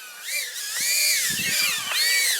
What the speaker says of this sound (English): you can hear from the RPM, these are pretty high kV motors for 2S battery